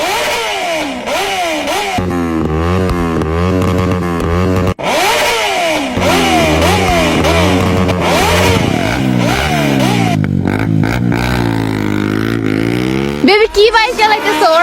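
Motorcycles race each other, their engines revving up and down in repeated loud surges close by, while voices talk over the roar.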